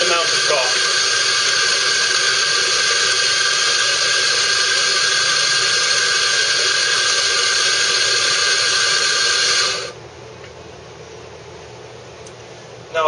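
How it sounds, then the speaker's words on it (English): A Bezzera Strega espresso machine's coffee grinder runs for a double dose, making a loud, steady, close motor whir for about ten seconds before cutting off abruptly into quiet room hum. "I'm going to press the switch twice, and the grinder will grind a predetermined amount of coffee."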